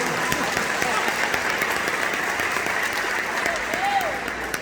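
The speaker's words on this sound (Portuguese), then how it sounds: "Então aplaude o Senhor pelo meu água." A church congregation claps together in steady, dense applause during a sermon, a loud sustained wash of clapping with voices mixed in throughout.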